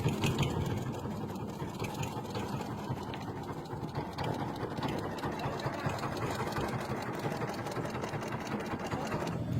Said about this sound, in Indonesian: Jaring dinaikkan menggunakan mesin, seperti ini prosesnya teman-teman.